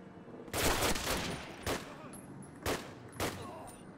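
Loud gunfire in Call of Duty, with a sustained burst near the start followed by three sharp single shots spaced about a second apart.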